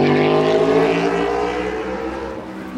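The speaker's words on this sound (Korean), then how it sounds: "오토바이가 지나갔어요." A motorcycle passes near a beach campsite, a droning engine tone that is loud at first and slowly fades as it moves away, with no talk over it.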